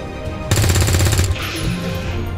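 A burst of automatic gunfire from XCOM 2 Long War 2 rattles out quickly and loudly for under a second, then settles into a lower rumbling tail.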